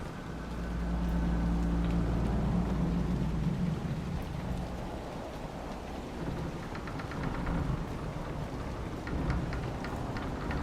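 A rainstorm in the video game Dragon Age: Inquisition brings steady hissing rain with deep rolling thunder rumbling low in the first seconds. Later, scattered droplets patter closer.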